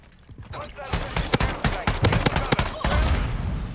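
Rapid shotgun blasts from the Broadside in Modern Warfare II DMZ, a dense volley of loud, close shots in quick succession with brief gaps, mixed with game noise and voices.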